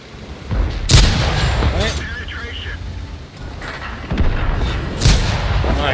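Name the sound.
tank cannon firing repeatedly in a video game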